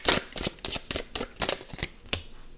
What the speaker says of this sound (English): Actually, I'm going to shuffle again.